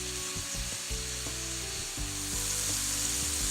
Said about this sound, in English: Our tomatoes are cooking down nicely.